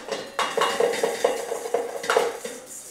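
Harvested basil seeds being shaken and stirred in a metal strainer, making quick, close rattling and scraping clicks in an uneven rhythm, with no talking.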